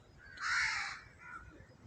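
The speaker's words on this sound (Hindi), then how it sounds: "चिड़ियों की, कौवों की, परिंदों की प्यारी प्यारी आवाज़ें" A crow caws once loudly and clearly in the early morning outdoors under dark clouds, followed by a fainter, shorter second caw, with no talking.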